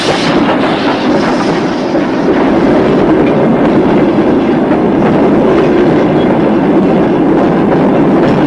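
A Soviet troop train from the 1986 war film rumbles along the rails, a loud steady roar with faint rhythmic clatter running for the whole stretch, no voices over it.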